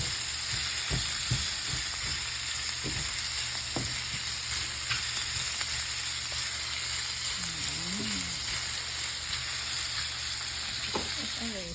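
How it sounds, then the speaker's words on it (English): Soy sauce poured into a pan of frying quail eggs gives a steady, close sizzle that carries through the whole stretch, with a few faint clinks and scrapes over it. "I'm just going to add some soy sauce to this."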